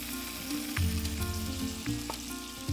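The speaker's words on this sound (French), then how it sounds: "j'égoutte mon poisson et puis je viens hop, le mettre dans ma poêle" A drained cod fillet dropped into a frying pan with a little oil, bursting into a loud, steady sizzle with bright crackling spatters close by, no talking.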